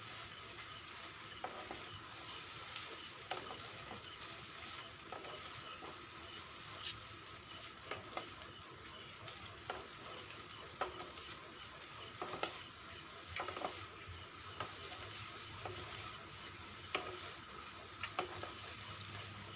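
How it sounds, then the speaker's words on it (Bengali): Pasta tossed through spice masala in a pan with a steady sizzle, and a spoon scrapes it in regular strokes across the pan. The sound is moderate and continuous with no voices. "এবার পাস্তাটা এর মধ্যে দিয়ে ভালো করে নাড়াচাড়া করব।"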